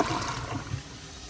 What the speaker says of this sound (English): But here is another flush.